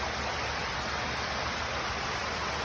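A river flowing at night gives a steady, broadband rush of water, constant and unbroken at a moderate level, with no voices or other distinct sounds over it.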